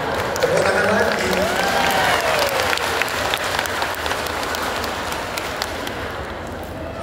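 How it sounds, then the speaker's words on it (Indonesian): An audience at an Islamic religious lecture claps in a sustained, loud burst of applause, while a faint whistle-like voice or tone wavers over the clatter early on. "Tepuk tangan lagi."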